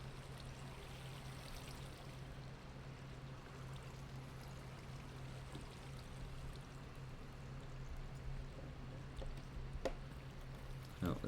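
Water flowing in the Minecraft video game, near a mine shaft where water and lava have met, makes a faint, continuous trickling rush that stays steady throughout with no talk over it.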